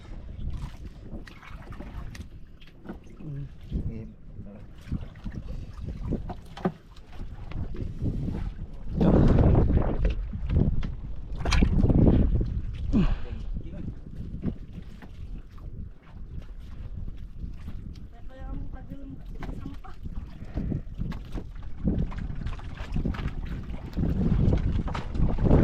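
Wind gusts buffet a small boat out on the water, rough bursts of blowing noise that swell and ease, loudest in the middle, with brief voices now and then.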